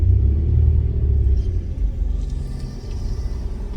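A Jaguar S Type car engine runs with a deep, loud rumble close by, a strong low throb at first that eases into a steadier idle.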